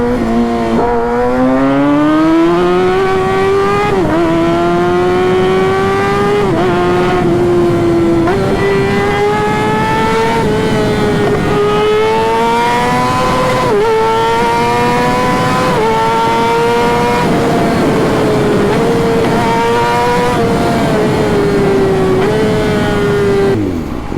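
Kawasaki ZX-6R sport motorcycle ridden hard at full throttle, its high-pitched engine wailing loud and close as it climbs through the revs, with repeated brief dips at gear shifts across a sustained run.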